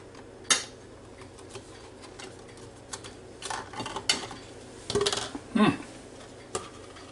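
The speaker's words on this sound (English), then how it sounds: "So you get over to your plate, just dump it over like this." Cooked minute rice tipped out of a hot Ninja Foodi Deluxe pot onto a plate, giving a few close clinks and scraping knocks of metal on the dish in a quiet kitchen.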